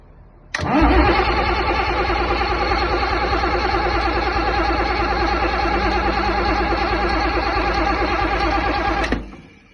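Land Rover diesel engine with newly fitted injectors cranks briefly then catches and runs, a steady loud close idle lasting about eight seconds before cutting off abruptly.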